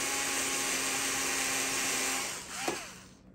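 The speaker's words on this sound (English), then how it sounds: "Now I'm using the original front panel as a jig to drill the holes." A power drill bores holes through a plexiglass front panel, using the original panel as a jig, with a steady high whine that holds for several seconds and then winds down.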